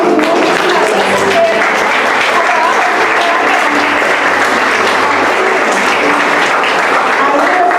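Loud, dense applause from a church congregation during a fundraising campaign service, steady clapping throughout with a low hum beneath and faint voices mixed in.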